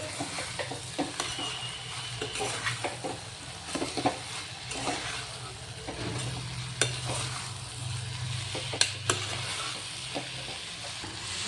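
Okra mixed into a hot tempering in a pan, a low steady sizzle of frying under occasional soft scrapes and taps of a spoon, fairly quiet and close, with no voices.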